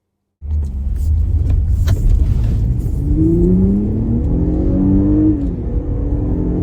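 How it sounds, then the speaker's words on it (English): A 2025 Audi SQ5 pulls away on the road, its engine rumbling in close and loud, then rising through the revs in a smooth climbing pitch before easing off as the SUV cruises. "I wasn't gonna pass up on driving an SQ5, obviously."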